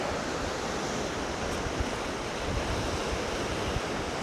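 The Clearwater River flows past a campsite at Wilderness Gateway Campground, a steady, dense rushing of water heard close and loud, with some wind noise mixed in and no voices.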